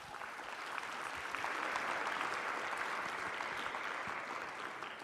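An audience at a conference assembly applauds warmly, a steady, even wash of clapping from many hands sustained for several seconds, heard at moderate distance.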